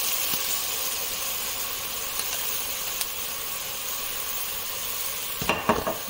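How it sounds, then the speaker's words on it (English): Mushrooms cook in a pan just deglazed with wine, producing a continuous hissing sizzle. A few light utensil clinks and scrapes sound near the end. "add a little bit of wine to deglaze the bottom of the pan"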